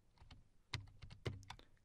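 A computer keyboard typing a command in a PowerShell session, with a quick irregular run of keystrokes including two sharper, louder hits, close and quiet with no talking.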